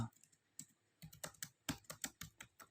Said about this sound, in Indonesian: kita ketik apa saja, misalnya saya ketik nama